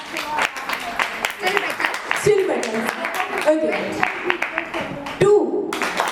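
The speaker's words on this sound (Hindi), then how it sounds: "एक बार जोरदार तालियां हो जाए" Guests at a first birthday party break into scattered clapping that swells to a brief round of applause, with a host speaking over it.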